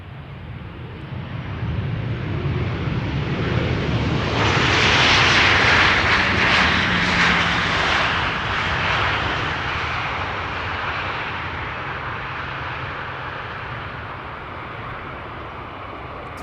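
A jet airliner at Amsterdam Schiphol Airport roars past, its engine noise swelling to a loud peak midway and then slowly fading into a steady distant rumble, with no talking.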